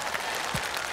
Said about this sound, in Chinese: 我希望大家能够把最为热烈的掌声送给我们六位冠